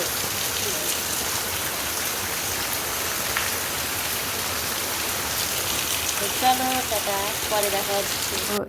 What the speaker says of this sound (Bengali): আজকে দেখি আরো বেশি বৃষ্টি হচ্ছে